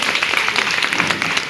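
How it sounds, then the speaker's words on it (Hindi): A crowd at a meeting claps together in a short, dense burst of applause, even and sustained for a moment. "जोरदार तालियां तो बनती है ना एक बार"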